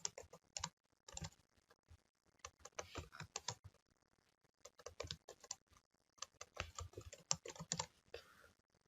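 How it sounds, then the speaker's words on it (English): A computer keyboard is typed on in quick bursts of clicks with short pauses between them during data entry in Microsoft Access, heard close and fairly quiet with no talk. "part of the game is typing, which I don't mind"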